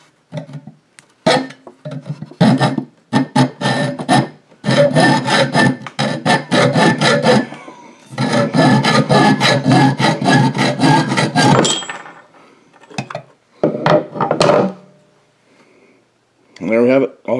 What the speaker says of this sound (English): Alright, we have the spoon set up in the vise. And we're going to saw it off.